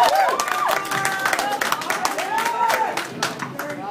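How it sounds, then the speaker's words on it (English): A comedy show crowd at Ashland Eagles applauds and cheers a comedian being introduced, a dense, steady wash of clapping with whoops and raised voices mixed through. "Come on, round of applause, everybody."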